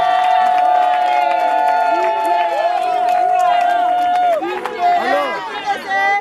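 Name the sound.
audience applauding and cheering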